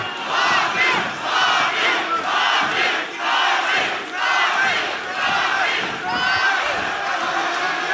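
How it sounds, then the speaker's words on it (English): A split crowd at an MMA fight roars and chants for fighters Bobby and Simon, loud surging cheers rising and falling in waves, with an announcer's voice mixed in. "We're hearing cheers of Bobby and Simon"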